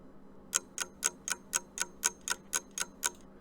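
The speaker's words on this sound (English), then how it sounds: "Here is the alarm clock sound that I used," Alarm clock ticking with eleven crisp, evenly spaced ticks about a quarter second apart, close and clear against a quiet background, starting after a short pause.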